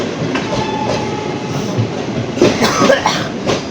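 The Padatik Express rumbles past close by on its way into Sealdah, Kolkata, with steady rolling noise and rhythmic clattering of wheels on the rails.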